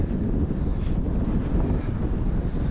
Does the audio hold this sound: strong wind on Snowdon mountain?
yes